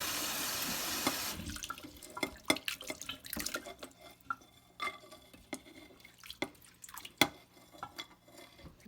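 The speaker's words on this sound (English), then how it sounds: "Now I'm going to rinse the bean sprout." Water runs briefly from a tap, then stops. Wet rustling and scattered drips follow as bean sprouts are rinsed and handled in a sink.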